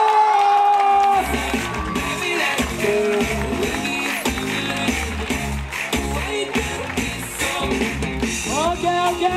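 A crowd at the 2015 bac to pec freestyle final between TAM and takuro cheers and whoops loudly and continuously over steady music, with applause mixed in throughout.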